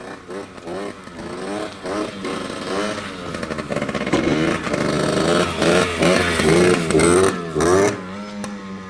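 A 1990 Yamaha RT100 two-stroke dirt bike engine runs and revs close by, buzzing in repeated rising and falling blips that grow louder toward the end.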